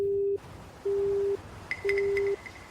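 After a call is hung up, a telephone busy signal beeps in three evenly spaced, steady mid-pitched tones with gaps between them. A few faint higher pips overlap the third beep.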